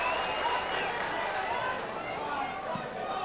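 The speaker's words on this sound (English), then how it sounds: "the crowd certainly coming to life now" Crowd noise swells at an Australian rules football match, a broad continuous roar of spectators at a distance, with a commentator talking over it throughout.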